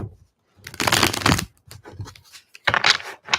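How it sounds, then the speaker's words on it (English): Tarot cards shuffled quickly by hand, giving close, loud bursts of riffling and flicking, one long burst and then a shorter one after a pause, with no talking. "I'm going to do a quick shuffle."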